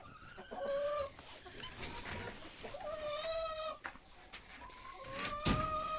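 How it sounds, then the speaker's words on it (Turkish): A village rooster clucking nearby in a farmyard, a series of repeated short throaty clucks and calls in irregular bursts, fairly clear against quiet background. "Bu şekilde köy horozu."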